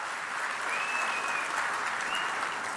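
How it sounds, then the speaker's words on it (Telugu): A crowd at a political meeting claps steadily, a moderately loud and fairly distant wash of applause that holds evenly throughout, with no speech over it. "కాబట్టి చప్పట్లతోనే స్వాగతం పలకాలి."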